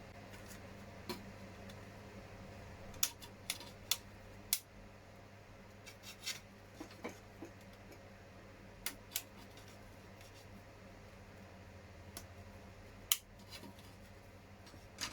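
Plastic moulding flash is trimmed off a model lens for a WPL C44KM build, with faint, close snips and small clicks scattered irregularly over a quiet hum.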